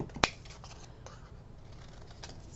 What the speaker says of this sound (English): But we're gonna fussy cut this.